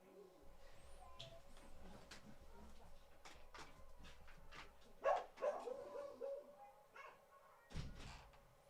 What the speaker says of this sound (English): The fucking dog is just going to wake up the whole fucking house.